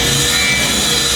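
Seeds being scraped out of a cucumber, a steady, close, continuous rasping scrape that runs unbroken and fairly loud from start to end, with no talking.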